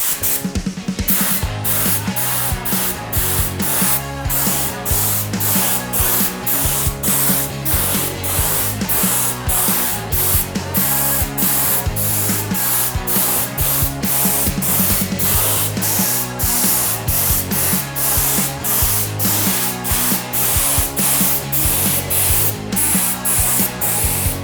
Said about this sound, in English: I spray them until I reach the seed tube.